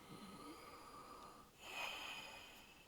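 A coughing Red Dead Redemption character breathes deeply for a doctor's examination. One slow, raspy breath swells midway through, faint and close over a steady game hum.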